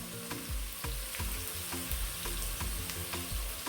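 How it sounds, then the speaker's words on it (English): Onions fry in a pan for fried rice with a steady bright sizzle, interrupted by regular thumping stirs or scrapes about twice a second, close and without talk. "our onions are cooking very well"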